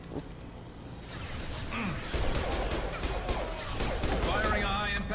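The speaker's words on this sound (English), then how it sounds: "Firing a high impact shot." Gunfire in the Mass Effect video game, with a high-impact shot amid a dense, loud barrage of rapid shots and crashes.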